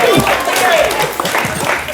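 Audience applause at a live comedy show, a dense burst of clapping under a loud voice that carries over it, close and full for the whole moment.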